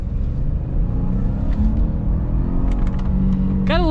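2022 Lincoln Nautilus SUV with a turbocharged engine accelerating, a steady loud low rumble building without talk, with a brief whine near the end.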